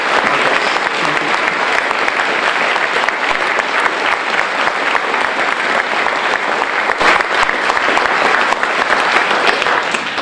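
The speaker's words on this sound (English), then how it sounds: "give a very, very strong round of applause for our guests" Sustained, loud audience applause at a graveyard commemoration tribute to poet Patrick Kavanagh, dense steady clapping filling the whole stretch with a slight swell near the end.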